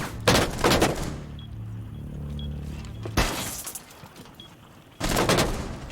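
Video game gunfire crackles in three loud bursts of rapid shots, separated by quieter stretches of low rumble and faint background noise, with no talk over it.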